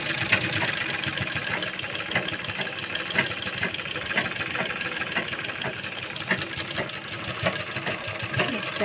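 A sewing machine stitches along the edge of a kurti's collar band, a steady close mechanical whir with fine rapid needle ticks running throughout, slightly uneven in pace.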